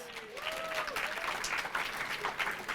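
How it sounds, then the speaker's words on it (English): A conference audience at a nutrition plenary applauds, a soft, fairly distant patter of clapping with a faint tonal sweep early on. "Give yourselves a round of applause."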